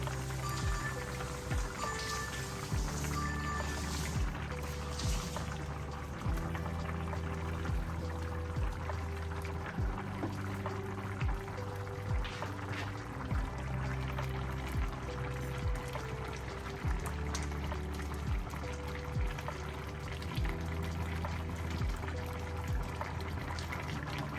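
Broth is poured into a simmering fish curry, giving a steady liquid splash and bubbling, with regular soft taps and knocks from a utensil repeating over the sound at close range.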